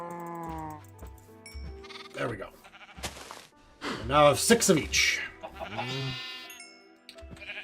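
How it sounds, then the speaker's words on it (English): Sheep bleat repeatedly in the Minecraft video game while animals are being bred, several overlapping calls close by, with someone talking over them. "Let's breed some sheep."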